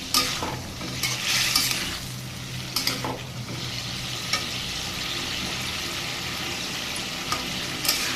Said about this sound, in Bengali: এবারে সবজিটা ঢেলে দেখুন সবজিটাকে ফোড়নটা দিয়ে দিয়েছি এবার এটা নেড়ে চেড়ে দেবো